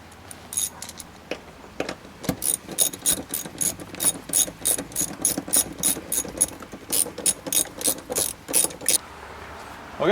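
A hand ratchet tightens the seat bolts on a Mazda Miata MX-5, giving close, loud bursts of rapid clicking. The clicking repeats in quick back-and-forth runs, with short pauses between strokes.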